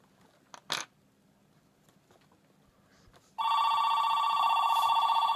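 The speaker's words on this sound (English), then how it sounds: "apologies for the phone ringing in my house." After a couple of quiet clicks and a brief rustle, a landline telephone in a house starts ringing with a sustained electronic trill that continues to the end.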